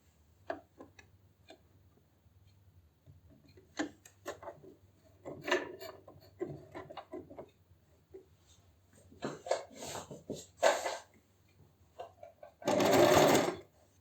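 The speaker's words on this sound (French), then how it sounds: "Alors maintenant, on va piquer tout le tour du sac, à peu près 2 mm du bord." A domestic sewing machine stitching around the edge of a beginner's cloth tote bag, short bursts of rapid mechanical whirring separated by pauses and fabric handling, with a louder sustained run near the end.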